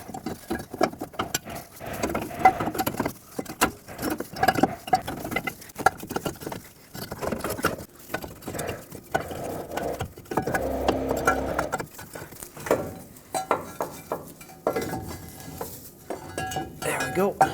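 A Ford F-150 exhaust manifold from the 5.4L 3-valve engine is worked back and forth out of the engine bay, giving irregular metallic clanks, scrapes and light rattling bursts with brief pauses, close up.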